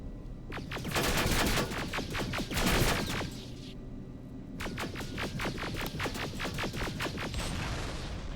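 Rapid bursts of turret gunfire strike a T-800 in the Terminator Resistance video game, loud and close, in two dense volleys with a brief gap between them and no talking.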